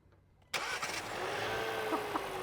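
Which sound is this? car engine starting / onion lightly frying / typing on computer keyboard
car engine starting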